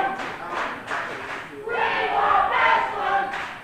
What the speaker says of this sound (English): And the crowd saying they want wrestling.